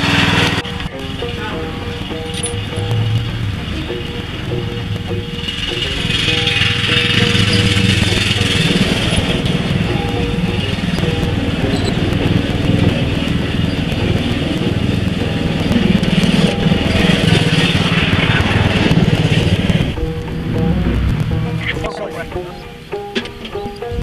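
A small yard tractor mower engine pulls a trailer loaded with rocks, droning steadily and loudly with shifts in pitch as it strains, while people talk over it.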